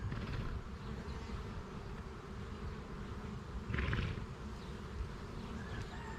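Honey bee swarm buzzing steadily and densely, close and continuous, with a brief louder swell of wings near the middle and no talk.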